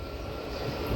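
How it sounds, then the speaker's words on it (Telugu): An ICF passenger train passes at Nidadavolu outer on the Vijayawada–Visakhapatnam main line, a steady low rumble of wheels and carriages, fairly faint and continuous for a brief moment. "ఏదో ఐసీఎఫ్ ట్రైన్ వెళ్తుంది"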